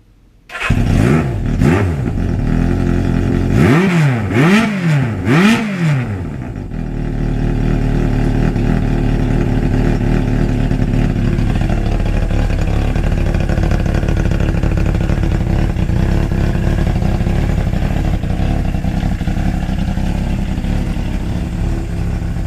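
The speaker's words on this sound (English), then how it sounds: "let's just start this bad boy up" A 1982 Suzuki GS750E cafe racer motorcycle cranks and starts, then gets several quick rising-and-falling revs before settling into a loud, steady, close idle that runs to the end.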